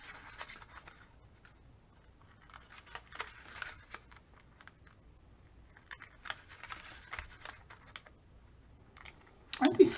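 Scissors snipping paper for a six-sided Halloween box craft, a few intermittent cutting bursts with quiet gaps between them, close by and fairly soft.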